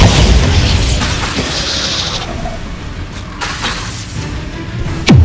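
A Bombarda spell blast in Hogwarts Legacy erupts as a loud, deep boom at the start, its rumble trailing off over several seconds before a second sharp burst hits at the very end.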